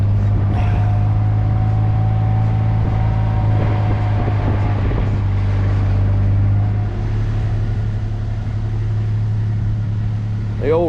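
An old White 245 Field Boss farm tractor idles with a steady, deep engine drone close by, holding an even low hum throughout while a person talks over it.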